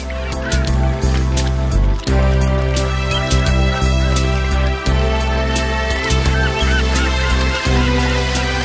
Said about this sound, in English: Tens of thousands of flamingos transform Lake Bogoria into a colourful spectacle